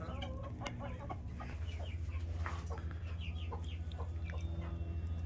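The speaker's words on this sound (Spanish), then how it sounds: "Las gallinas." A flock of Mapuche laying hens clucking and cackling continuously, with scattered sharper calls over a steady low background hum.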